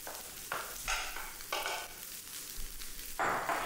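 Fried rice is tossed and cooked in a hot pan, with a constant sizzle under repeated louder bursts of rice being flipped and stirred, heard up close.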